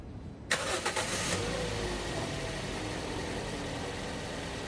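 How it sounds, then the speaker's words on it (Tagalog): A Toyota Vios engine cranks briefly and catches, then settles into a steady, close idle, heard alone. "pwede nang i-start itong makina"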